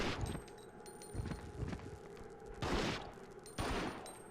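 Pistol gunfire aimed at an enemy during a training stage of the Resident Evil Outbreak video game, heard as a string of sharp, loud shots at irregular spacing, with two heavier bursts near the end.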